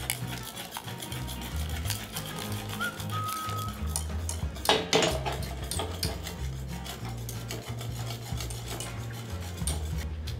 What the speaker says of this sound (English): Whisk this down until it's nice and melted.